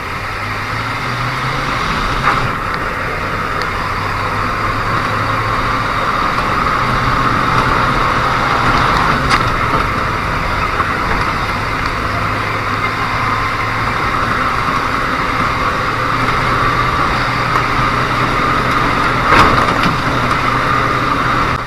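A car engine pulls hard down a bumpy straightaway in winter conditions, a steady, loud mid-range drone that holds and builds over about twenty seconds. Low drivetrain rumble and occasional knocks run underneath.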